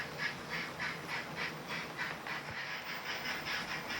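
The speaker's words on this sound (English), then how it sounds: "I'm driving 5 trains at once" Five small model trains run at once along a portable track set at night with a continuous rolling rattle and rhythmic clicking, fairly quiet and steady throughout.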